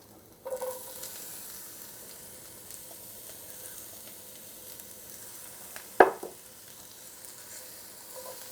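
Sliced red onions, garlic and crushed red pepper sizzle steadily in a hot pan, a soft continuous fry with one sharp clatter partway through, no voices.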